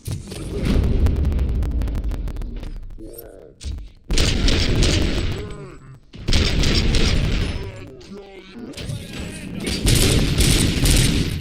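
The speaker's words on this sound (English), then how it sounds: "am I hearing gunshots?" Gunfire in the RoboCop: Rogue City video game, loud booming shots and bursts arriving in several dense volleys separated by brief gaps, with voices speaking between them.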